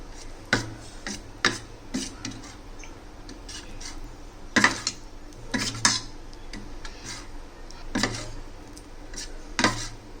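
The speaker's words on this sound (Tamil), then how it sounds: "இந்த வெங்காயத்தை இப்போ கலக்கி வச்சுருக்கிற கோதுமை மாவில் மிக்ஸ் பண்ணலாம். நல்லா இதை கலக்கிக்கோங்க." Fried onions being stirred into wheat dosa batter in a bowl, a spoon clinking and tapping against the sides at irregular intervals over a soft wet mixing sound, close by, with no talking.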